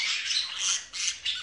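Budgerigars chirp and squawk in quick, shrill bursts, several loud calls overlapping close by with no talking.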